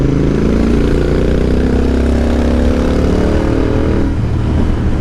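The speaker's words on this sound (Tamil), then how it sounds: "பைக் சவுண்ட் கேட்குதா?" A loud, steady motorcycle engine drone rumbles throughout, recorded close by from a helmet-mounted camera, with a slight shift in pitch near the end.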